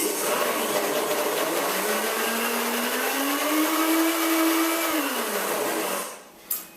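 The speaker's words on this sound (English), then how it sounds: "we'll just give it one final whiz in case a drop came out" A blender gives a final whiz to a raw mint chocolate torte mixture, its motor rising in pitch, holding a steady loud whir for several seconds, then winding down and stopping with a brief clunk at the end.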